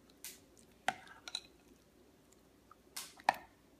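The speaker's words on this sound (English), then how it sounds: "I'm just going to give it a little bit of a stir" Chilled, firm green vanilla pudding being stirred to loosen it: a few quiet, scattered wet squishes and sharp clicks of the utensil against the container, separated by near-silent pauses, with no talking.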